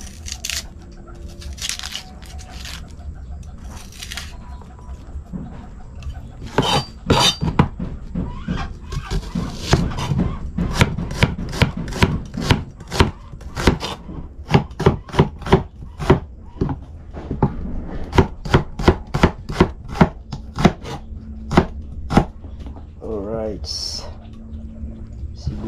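Onion, ginger and garlic diced with a sharp knife on a cutting board for adobong tilapia, bursts of quick, crisp knife taps in fast rhythmic runs, close and loud, with someone talking between the chopping.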